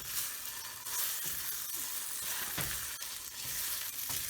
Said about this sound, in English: We're not trying to cook the salmon roe, we're just basically heating it up.